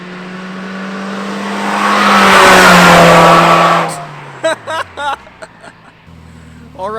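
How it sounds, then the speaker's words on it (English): A rental Nissan Versa roars past at high speed, its engine note building loudly, peaking overhead, then dropping in pitch as it recedes, followed by a few short bursts of voices nearby. "next up we're doing a high-speed flyby"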